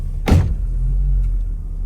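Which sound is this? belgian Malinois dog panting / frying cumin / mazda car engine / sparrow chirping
mazda car engine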